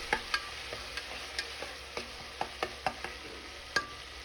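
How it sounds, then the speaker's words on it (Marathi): Finely chopped tomatoes sautéing in a pan, a low steady sizzle punctuated by a dozen sharp ticks and taps of a spatula against the pan at an uneven pace, no voices. "आता त्याच्यामध्ये मी बारीक चिरलेला टमॅटो घालत आहे टमॅटोही आपल्याला मऊ होईपर्यंत परतवून घ्यायचं आहे"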